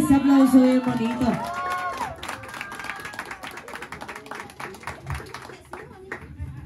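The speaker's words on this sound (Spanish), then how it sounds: "Ese aplauso bien bonito." Applause and scattered clapping from a family crowd at a mariachi birthday party, a steady patter of hands that follows a fading sung note and continues under light chatter.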